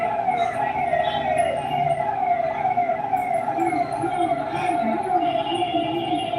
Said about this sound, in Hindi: एम्बुलेंस जा रही है